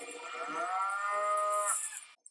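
A cow in the film Jurassic Park gives a long, plaintive moo that swells and then cuts off, heard clearly and alone with no talking over it.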